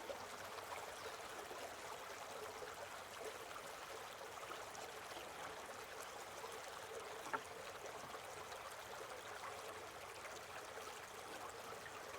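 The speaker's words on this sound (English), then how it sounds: "So now we're going to pour off our excess water, being careful not to dump it back into the stream here." Excess water poured off a gold prospecting pan beside a stream during high-banker sluicing, a steady broadband splashing and trickling wash running continuously at moderate distance with one brief sharper splash midway.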